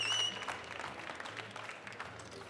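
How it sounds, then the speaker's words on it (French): An audience in Marseille applauds during the 2016 WBC France final, a steady, fairly faint wash of clapping from a crowd heard from a distance. "Un tonnerre d'applaudissements pour cette..."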